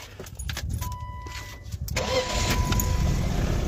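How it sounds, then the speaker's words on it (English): A BMW E36 car being started: keys rattle, the starter cranks briefly, then the engine catches and settles into a steady idle close by, with no one talking. "Let me start the car and let me show you what I'm talking about."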